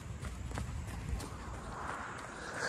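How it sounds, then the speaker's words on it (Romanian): Horse hooves run on a beach in a quick, steady clip-clop, fairly close, over a broad wash of wind and surf noise, with no talking. "A fugit cu băiatul meu cu calul."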